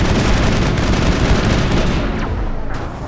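Dense, continuous gunfire from the video game Mass Effect fills the stretch, with rapid overlapping shots and booming bursts that ease slightly near the end.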